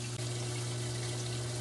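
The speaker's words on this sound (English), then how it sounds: "once I was able to match up the proper amount of water I want coming through" Water runs steadily through the plumbing of an aquarium sump fed by a pump, a constant close rushing flow with a low steady hum underneath, no talking.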